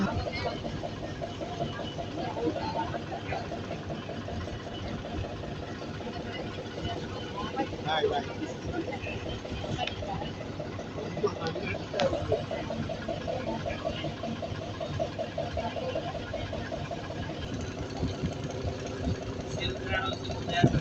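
A boat engine running during a ride at sea off Trincomalee, a steady mid-pitched drone with a faint rattle throughout, under people talking.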